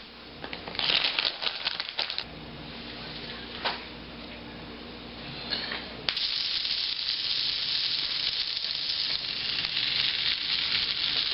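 A steak panini with mozzarella cheese sizzles in the fryer, with a steady hiss that jumps louder and more constant partway through, marked by brief clatters and bursts of crackle early on.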